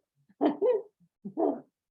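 A dog gives a few short, soft barks close by, two quick ones then a pause and another, with silence around them.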